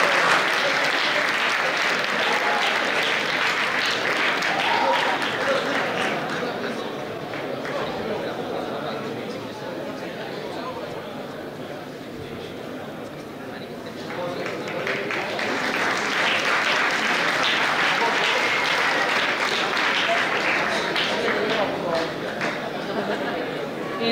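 A crowd at a university campus festival awards gala claps loudly for a badminton championship winner, and the applause dips in the middle before swelling again, with chatter and voices mixed in.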